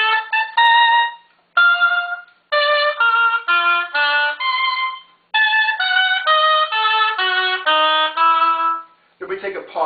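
An oboe plays the bright, trumpet-like fanfare passage from Haydn's Concerto in C Major, first movement, in crisp detached notes and short phrases, solo and close.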